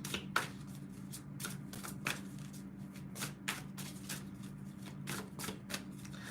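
A deck of cards is shuffled close up, with a run of crisp riffling snaps and flutters repeating at an irregular rhythm over a faint hum.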